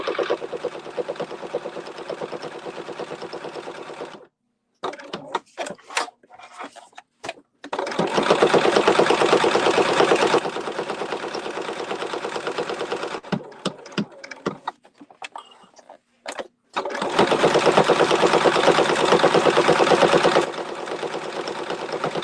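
Sewing machine stitching two pieces of fabric together, long steady whirring runs of fast needle strokes broken by pauses with clicks and handling noises, close and loud.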